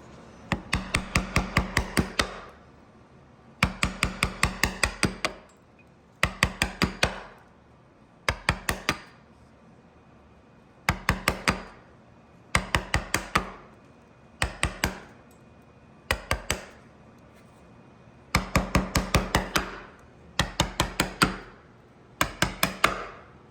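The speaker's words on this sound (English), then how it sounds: "I'm gonna do small cuts with a smaller chisel to try to break away some of that extra wood here" Chisel driven by a mallet into pine while cutting a dovetail joint, with small paring cuts clearing waste wood: bursts of rapid sharp knocks repeat in close groups, loud and near, with brief pauses between.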